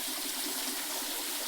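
Spring water runs down from the mountains at a temple site, giving a steady, close hiss of flowing water that fills the short stretch without pause and with no voices.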